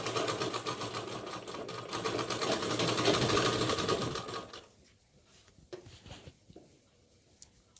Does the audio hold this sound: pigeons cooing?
no